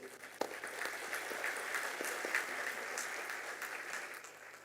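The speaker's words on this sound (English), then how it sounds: "Let's give a hearty round of applause in appreciation of our journey." Moderately distant applause from an audience at a university day ceremony, continuous scattered clapping with a few sharper claps standing out, holding a steady level throughout.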